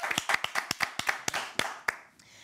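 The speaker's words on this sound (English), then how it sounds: "Let's give him a round of applause." A studio audience claps for a guest on a live Caribbean talk show, a quick run of a dozen or so sharp, distinct claps that thin out and stop after about two seconds.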